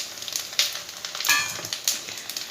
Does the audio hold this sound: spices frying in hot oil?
yes